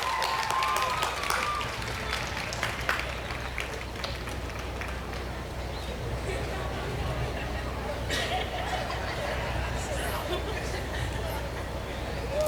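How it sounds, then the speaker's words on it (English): A large outdoor commencement crowd applauds at a graduation ceremony, a fairly distant wash of clapping and crowd murmur with voices underneath throughout. "give them a nice round of applause"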